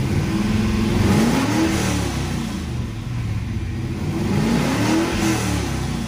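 A manual drag car engine with the two-step limiter disengaged revs freely in a garage, rising and falling in two loud, close sweeps over a continuous throaty drone.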